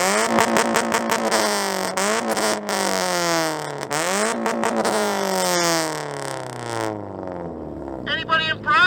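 A car engine revs hard in repeated bursts, its pitch climbing and falling in sweeping harmonic runs, loud and close, before cutting off near the end; voices speak briefly alongside it.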